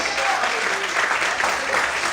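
A church congregation bursts into sustained applause after being invited to clap for the Lord, a dense, steady wash of many hands filling the room at moderate loudness.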